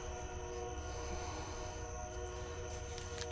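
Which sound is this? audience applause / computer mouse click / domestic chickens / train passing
train passing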